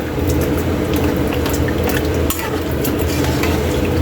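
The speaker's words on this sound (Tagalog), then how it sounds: "Haluin lang natin." Continuous bubbling and scraping in a pot of chicken asado sauce, a steady simmering sizzle with spoon stirring, fairly close and loud with no talking.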